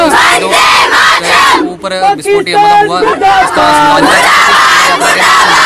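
A crowd of college student groups marching in protest shouts slogans loudly and close by. The chanting voices rise and fall in ragged waves, and a brief lull comes in the middle.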